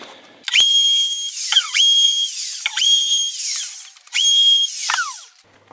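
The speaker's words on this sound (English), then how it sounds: "I usually use a router to do that. I'm using a trimmer bit like you would use for trimming Formica with the ball bearing on the bottom." A router with a ball-bearing trimmer bit trims the wooden edges of a Langstroth beehive, whining shrill and close in four sustained passes, its pitch sliding down between cuts.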